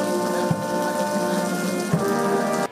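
Heavy rain beats down steadily during a downpour outside a funeral service hall, a dense, continuous hiss with a couple of soft thuds, loud and unbroken before cutting off abruptly.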